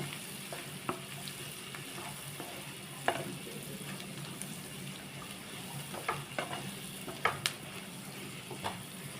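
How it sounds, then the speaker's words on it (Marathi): Garlic and ginger sautéing in a pan with chilli powder for butter chicken: a quiet, steady sizzle with scattered spoon scrapes and small clicks, fairly faint with no talk. "आता याच्यात लसूण आणि आदरक घालूया आपण आणि छान व्यवस्थित असं परतून घेऊया"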